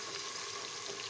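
Chicken pieces tipped into a hot pan with ginger-garlic paste, giving a steady, even sizzle of frying that holds close and constant without any voices.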